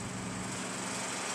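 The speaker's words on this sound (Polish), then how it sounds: "W tle pracuje jakiś agregat." A generator drones steadily in the background at a railway station construction site, a constant engine hum that is fairly faint and has no talk over it.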